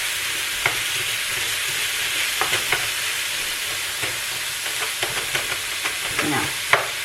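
Meat browns in a large skillet for an egg roll bowl, giving a steady close sizzle and frying hiss broken by scattered clicks and scrapes of stirring, with no talk.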